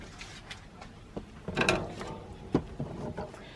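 An AccuQuilt Studio fabric cutter runs a gold die on a gold adapter plate through quilting fabric, giving close, uneven ratcheting clicks and grinding mechanical rumbles that swell in the middle.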